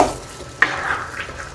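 Pork picadillo stirred in a pan, with a brief sizzle and a single sharp clack of a utensil against the pan midway, fairly close and clear.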